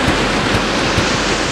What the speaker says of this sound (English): a big wave. I love big waves.